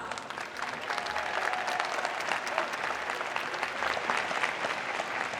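Graduates and guests at a university diploma and awards ceremony give a round of applause, steady, even clapping from a large crowd that continues for several seconds, slightly distant.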